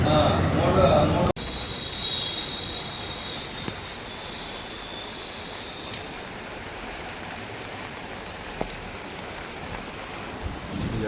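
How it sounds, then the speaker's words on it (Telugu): Steady heavy rain pours in an evening backyard, a dense continuous hiss filling the whole stretch after a brief louder burst at the start, with no voices over it. "వర్షం పడుతుంది మంచిగా ఫుల్ పడుతుంది వర్షం"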